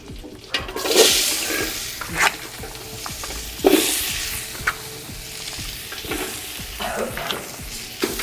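Onions fry in a pot for Canada-style biryani cooked at home, a constant sizzle broken by intermittent scraping and clattering stirs of a utensil, close by, with no one talking.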